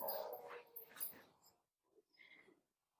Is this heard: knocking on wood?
no